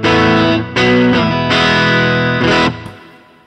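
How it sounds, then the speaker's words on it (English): Electric guitar played through a Mr. Black Eterna ambient reverb pedal with the mix turned up and decay all the way down: loud sustained chords with swelling distorted, chorused shimmer, cut off sharply and fading near the end. "this is an ambient reverb."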